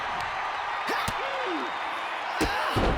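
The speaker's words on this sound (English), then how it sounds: "Bang! Drop kick." A drop kick lands in the WWE 2K26 wrestling video game, giving sharp slamming thuds over steady arena crowd noise, with brief vocal sounds mixed in.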